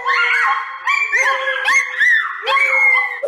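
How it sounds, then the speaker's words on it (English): A coonhound and other dogs howl together in drawn-out, overlapping wails with yips and rising bays, loud and close, repeating in waves without any talking. "He's taught all the other dogs to howl like a hound dog."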